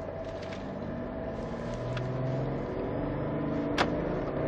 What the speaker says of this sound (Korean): 출력 테스트, 엑셀에 힘 한번 살짝 줘볼게요.